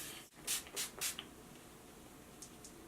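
Three quick bursts of Urban Decay All Nighter setting spray, short hissing puffs of fine mist in a steady rhythm, then quiet with a couple of faint later puffs.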